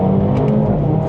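Mercedes-AMG A35 accelerating hard from a standstill, heard from inside the cabin as a loud, steady engine roar that holds for about a second with no talk.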